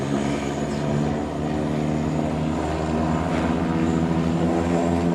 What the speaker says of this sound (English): That was that plane that had just gone over, that was the 777.